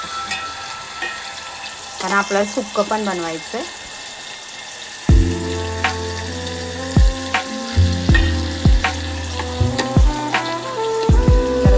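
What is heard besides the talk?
tempering spices sizzling in hot oil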